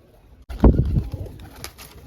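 A pigeon gives a short, close, low coo that rises suddenly out of near silence, with faint rustling after it.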